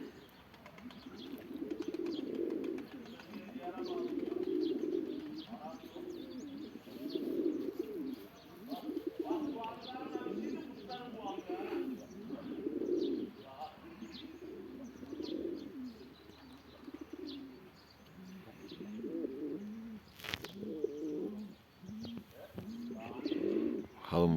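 Pigeons or doves cooing in soft repeated low phrases, fairly close, with occasional small chirps and a brief flutter of wings, heard alone without voices.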